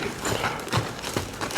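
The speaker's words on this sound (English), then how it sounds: "when I pull on this horse's rein, its head gives and his feet move in some direction" Horse's hooves clip-clop on the ground as its rein is pulled during saddling, a few uneven close steps with soft shuffling between them.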